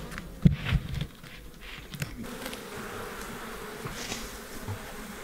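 Bees drone around an open beehive in a warm outdoor apiary, a steady swarm of buzzing after a few sharp knocks and handling sounds at the start.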